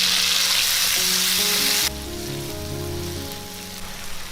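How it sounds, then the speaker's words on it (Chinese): Tomatoes tossed into hot oil with fried garlic in a wok: a loud, dense sizzle that drops sharply as the tomatoes hit, then a softer steady frying hiss with faint clinks of the spatula. "接着把番茄放进来炒"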